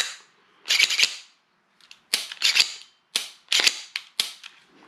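A Glock 19 pistol is dry-fired while being fitted with performance upgrades, giving several sharp close mechanical clicks and clacks in quick bursts separated by short silences.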